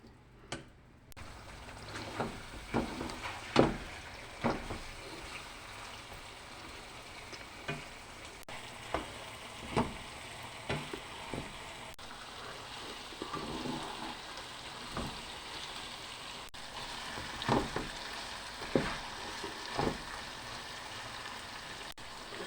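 Beef tikka pieces frying slowly on a low flame, a faint steady hiss with scattered soft pops and occasional utensil knocks, no speech.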